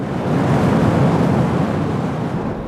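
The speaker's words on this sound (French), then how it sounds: "On a tout vent et mer tout autour de nous" Wind and sea waves surround the Île de Sein off the Breton coast, a dense, steady rushing roar of surf and gusting air, loud and continuous with no voices.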